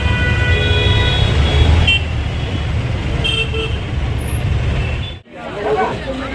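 Road traffic stands jammed near New Jalpaiguri (NJP) railway station in West Bengal, with several vehicle horns tooting over a continuous rumble of engines and crowd babble, heard up close.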